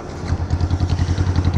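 Yamaha New Vixion motorcycle fitted with a Tridente F20 Raptor exhaust in racing mode, idling close by with a steady, lumpy low thump and rhythmic exhaust pulses, no other sounds.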